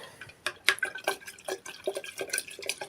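A yeast solution for plant feeding, sweetened with sugar, being stirred in a container: quick watery swishes and splashy drips in an uneven rhythm, close and fairly quiet.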